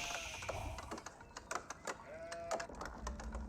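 Sheep bleat in the real-time strategy game Age of Empires 4 from a newly placed pasture, several short bleats rising over soft clicks and game ambience.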